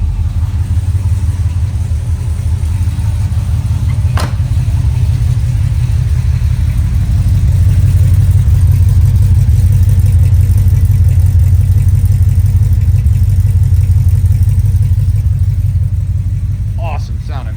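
A 1972 Chevy Nova Super Sport idles steadily with a deep, loud rumbling engine note that holds constant throughout, close by, with a faint voice over it.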